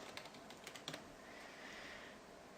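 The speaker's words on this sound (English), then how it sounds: "I just want to go ahead and type in my business name" A short run of soft keystrokes on a computer keyboard as a business name is typed, quiet and close, with a handful of light taps over low background hiss.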